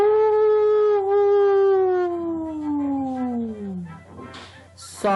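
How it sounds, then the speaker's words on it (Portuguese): A wolf gives one long, loud howl that slowly slides downward in pitch over several seconds before fading out, followed by a brief rustling noise, with no talking. "toda a floresta ouviu um tenebroso uivo"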